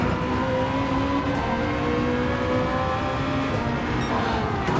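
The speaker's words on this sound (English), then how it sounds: "The Mazda 787 with that distinctive wail." A Mazda 787 race car in Gran Turismo 7 drones on continuously with a high, steady engine wail and rising harmonic tones, loud and close, with a constant rushing roar beneath it.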